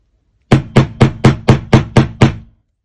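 A hammer strikes a metal stamping blank set in the dish of a steel dapping tool: eight sharp, evenly spaced blows, loud and close, each ringing briefly before the next, then silence.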